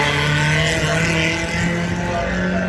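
Loud, steady engine roar from a car at a Pittsworth sprint event in 2022, a continuous droning note held close by for the whole stretch with no break.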